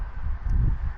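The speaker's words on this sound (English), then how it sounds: "I'm sure the audio quality is just terrible because it's so windy up here." Wind buffets the microphone with a low, muffled rumble that swells and fades over a second, close and blustery.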